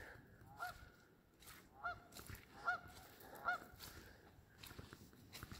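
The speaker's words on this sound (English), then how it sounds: "Canadian geese out there." Canada geese honk at a lakeside park in Wisconsin, about four spaced, two-note honks sounding at moderate distance over faint wind and outdoor ambience.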